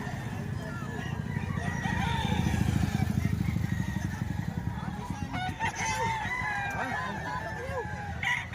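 Roosters crowing and hens clucking at a poultry market in Lipa, Batangas, several birds calling over one another close by, with a motorcycle engine droning underneath throughout.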